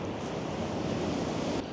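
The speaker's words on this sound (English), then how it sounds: "We do occasionally get some bigger waves, so that could be nice" Ocean waves break on the rocky shore at Hartland Quay, Devon, a continuous loud roar of surf mixed with wind buffeting the microphone.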